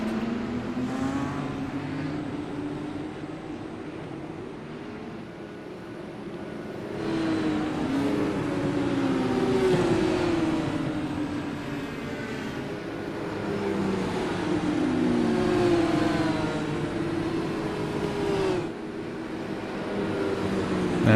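A field of race cars in a racing video game rolls off behind a pace car at New Hampshire, engines droning loudly and continuously with rising and falling revs and overlapping motors.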